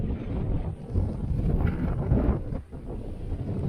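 Strong wind buffets the microphone in a steady, rumbling roar with gusty surges, no other sounds standing out.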